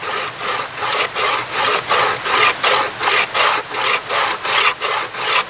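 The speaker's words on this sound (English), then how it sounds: "You just try to hold it at 90 degrees as best you can." A DISPATCH knife spine being hand-filed square at 90 degrees: about a dozen even, rhythmic rasping strokes, close and fairly loud, with no voices.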